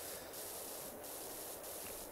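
Steady high-pitched hiss of a pressure washer spraying walls in PowerWash Simulator, continuous and close, with a few brief surges in the spray.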